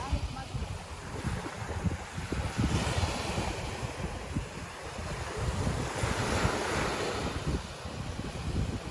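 Sea waves wash onto a beach in a steady, continuous surf roar with gentle swells, mixed with wind buffeting the microphone and no talking.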